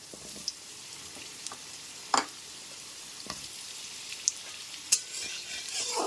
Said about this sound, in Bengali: আলুগুলো এখানে হালকা করে ভেজে নেওয়ার পর এর মধ্যে দিয়ে দিচ্ছি কেটে রাখা রাঙা আলুর টুকরোগুলো